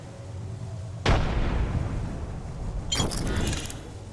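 A grenade detonates in a first-person shooter, a sharp loud blast at about one second followed by a rumbling tail, then a second burst of crackling explosions near three seconds over steady game ambience.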